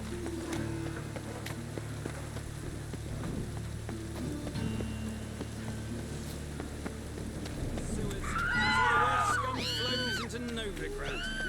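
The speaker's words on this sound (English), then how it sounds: "Rain makes this city even more dreary." Rain falling in the video game The Witcher 3 on the streets of Novigrad, a steady soft patter under a low ambient hum, joined near the end by high warbling cries.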